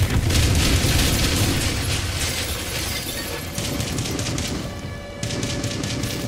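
In Call of Duty Modern Warfare 2, a BTR armored vehicle fires on houses as a dense, continuous roar of rapid booming gunfire and impacts, loud and close, with the battle din swelling and easing.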